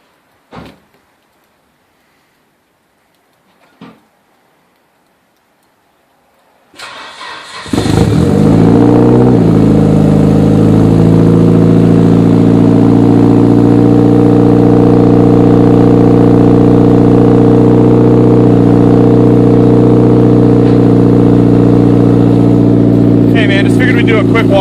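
A Mitsubishi Evo is started: a couple of faint clicks, then the engine cranks and catches, settling into a loud, steady close-up idle that drones on with slight revving.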